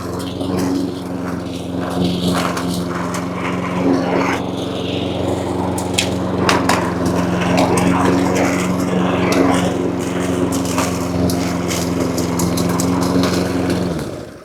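A petrol lawn mower engine drones steadily up close, a constant mechanical hum with rattling and clatter as it drives along, then cuts off at the end.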